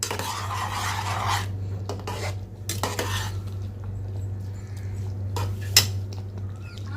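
Spice powder stirred into sambar in a metal pot, the spoon scraping and clinking against the pot in irregular strokes, close and moderately loud over a low steady hum.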